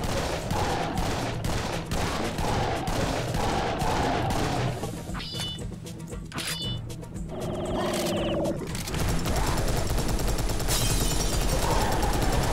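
Rapid gunfire and bursts of automatic weapons in Serious Sam's Bogus Detour, loud and dense throughout, with a brief lull of sharper pings and mechanical clatter midway before the barrage resumes.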